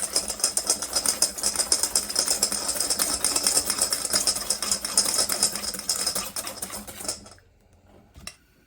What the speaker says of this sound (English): the 6 egg yolks, and I'm going to whisk them together